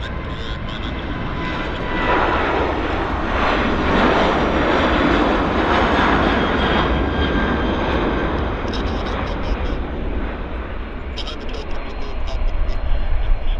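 Airliner engines roar steadily and loudly at Vancouver Airport as a plane accelerates down the runway on takeoff, a broad continuous rumble building slightly, with voices talking over it.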